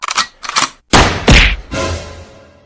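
A loud, close gunshot bursts out, followed by a heavy thud and a fading noisy tail, after a few quick tapping sounds.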